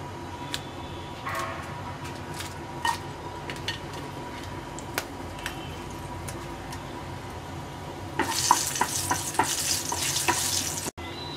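Dried red chillies dropped into hot mustard oil in a pan, with light ticking and occasional clinks over a low hiss before a loud, dense sizzle erupts near the end.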